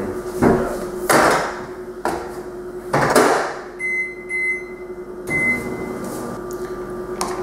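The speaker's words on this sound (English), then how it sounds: "Cover it up slightly so it doesn't explode in the microwave." A low steady microwave oven hum, melting butter, runs throughout, punctuated by several soft knocks and clunks, with a brief electronic beeping partway through.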